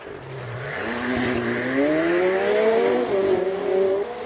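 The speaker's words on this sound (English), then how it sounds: "John Mountain now about to take off in the 720S McLaren" A McLaren 720S pulls away at a Cape Town hill-climb speed event, its engine rising in pitch as it accelerates, loud and close, then carrying on at high revs.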